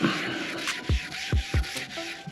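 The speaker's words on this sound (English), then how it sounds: "So get in there and scrub it." Firm scrubbing strokes rub across the rear window glass of a 2018 car, three distinct rhythmic swipes standing out over a steady hiss, close and fairly loud, with no speech.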